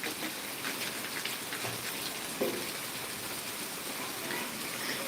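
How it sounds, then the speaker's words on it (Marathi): Steady rain patters down evenly on a hard surface in Karad, easing off, a constant wash of drops at moderate level with no voices. "जवळपास दहा मिनिटं झालं कंटिन्यू पाऊस चालू आहे आणि आता तो थोडासा कमी आलेला आहे"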